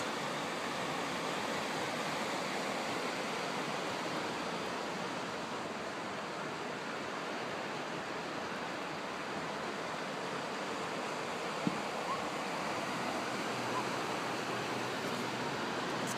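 Ocean waves at Palolem Beach in Goa, India, a soft, steady wash of surf rolling continuously at moderate distance, with no voices.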